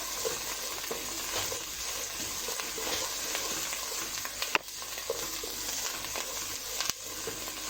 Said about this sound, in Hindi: लहसुन अदरक को डाल लिया है और देखिए लहसुन अदरक अच्छे से कुक हो जाए